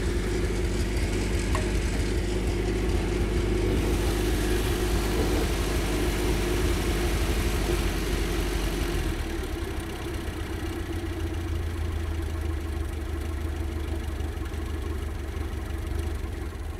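A Fiat 215RB engine idles at high idle, a loud, steady, close mechanical drone with a low rumble that drops and softens partway through, with no talking over it.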